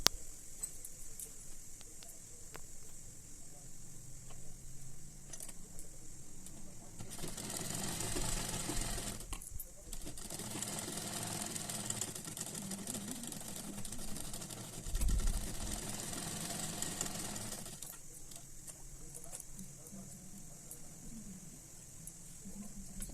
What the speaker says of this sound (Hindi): इसके ऊपर से मैं एक सिलाई लगा लूँगी।